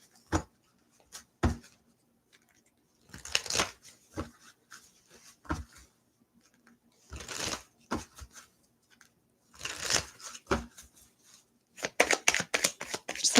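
Tarot cards are shuffled in repeated riffling bursts, close and crisp, separated by short taps and quiet pauses.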